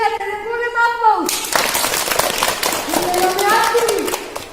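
A children's audience at a school theatre performance claps in a lively, brief burst after a child's line of dialogue, with young voices continuing to speak and call out over the applause.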